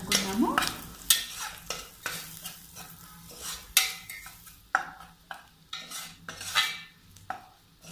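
Coriander powder and coconut powder are stirred together in a pan with a metal spoon. It makes repeated scraping strokes and clinks over a faint sizzle, close and clear, in short irregular bursts without speech.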